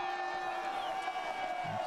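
Spectators at a 1km freestyle sprint cross-country skiing qualification cheer a skier coming to the finish, a steady crowd roar with scattered whoops behind a commentator's voice.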